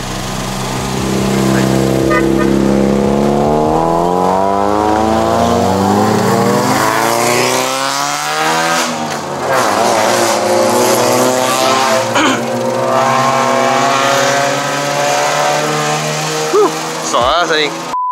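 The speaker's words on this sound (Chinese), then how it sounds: "850cc 三缸的自然进气引擎" A Perodua Viva 850cc naturally aspirated three-cylinder engine, 5-speed manual, revs hard from inside the cabin on a climb toward Genting, pitch rising steadily, dipping at a gear change and climbing again, loud and continuous with someone talking over it.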